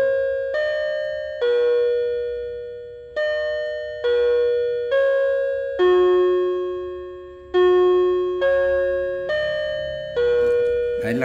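Electronic clock alarm imitating a mechanical clock's bell, a loud, clear series of repeated ding-dong chime notes of varying pitch, each ringing out and decaying before the next, with no talking.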